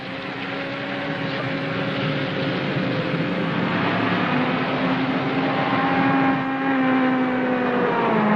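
A car engine hums and revs in a 1958 film scene, a loud, continuous drone with rising and falling engine tones sustained throughout, with no voices heard.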